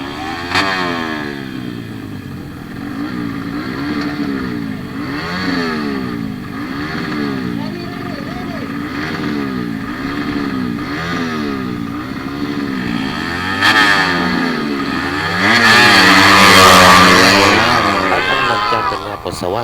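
Motorcycles, including 125cc machines, race at a drag race, engines rising and falling in repeated revving sweeps that build to a loud, hard run near the end, with a crowd and excited announcer talking over them.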